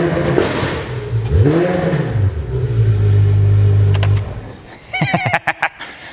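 A Porsche GT3 RS with Dundon race headers and muffler delete revs hard, rising to a sustained loud blare that cuts off sharply, followed by brief throttle blips, close by.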